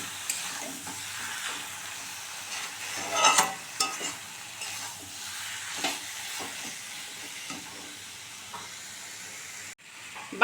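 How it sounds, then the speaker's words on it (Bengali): Cabbage curry with a hilsa fish head being stirred in a frying pan, a steady close sizzle broken by scraping spoon strokes, with one sharper clatter partway through. "এবার একটু ভালো করে নেড়ে চেড়ে নেব।"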